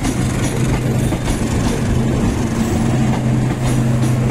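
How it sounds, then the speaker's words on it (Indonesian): A Matarmaja passenger train bound for Jakarta from Malang rolls through Pekalongan station, a steady, loud rumble of wheels and carriages with low, droning hum, continuous throughout with no voices. "nampak di sini melintas kereta api Matarmaja tujuan Jakarta"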